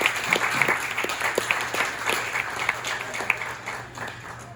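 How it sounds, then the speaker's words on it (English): A wedding reception crowd applauds steadily, many hands clapping together in a dense, sustained burst that tapers slightly toward the end. "So we can give them a round of applause."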